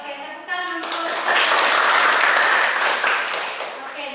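A classroom of students claps after a group presentation, a sustained burst of fairly loud, dense clapping that swells quickly, holds, then eases slightly, with a voice speaking briefly at the start.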